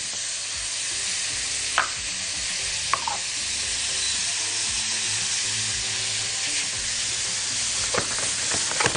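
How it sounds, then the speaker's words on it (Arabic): Onions hiss and sizzle steadily in hot olive oil, a dense frying crackle with a few sharp scrapes and clinks of a spoon stirring the pan, close and continuous with no talking. "حط عندي زيت الزيتون، ننزل على طول عندي البصل"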